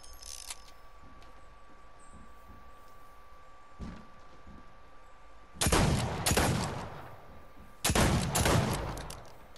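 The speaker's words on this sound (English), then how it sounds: "I just realized I'm actually shooting the roof." Automatic gunfire rattles in Fortnite Battle Royale as shots hit a roof, coming in two loud, dense sustained bursts of rapid fire. Quieter game ambience and a few faint isolated sounds come before the bursts.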